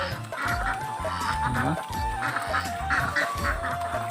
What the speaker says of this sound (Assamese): এইবিলাক হাঁহ, পাতি হাঁহ, ৰাজহাঁহ।